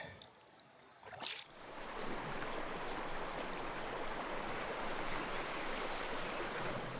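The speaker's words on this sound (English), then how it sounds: "I see rapids." Rapids on the French River on a canoe trip rush in as a steady, broadband roar of turbulent water, swelling after a quieter opening second and holding loud and close to the end, with no talk.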